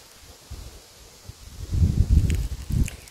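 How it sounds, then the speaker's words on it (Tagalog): Gusts of cold wind in the countryside buffet the microphone in low rumbling bursts, strongest in the second half, with faint rustling and no speech. "Sobrang lamig yung hangin."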